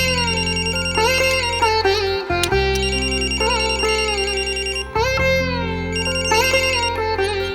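Telephone ringtone playing a loud, repeated melodic pattern in three similar bursts with short gaps, the tone phrase cycling over a steady electronic backing with no voices.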